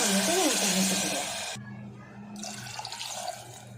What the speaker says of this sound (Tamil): அதனால் 3 கப் அளவுக்கு நான் தண்ணி சேர்த்துக்கிறேன்.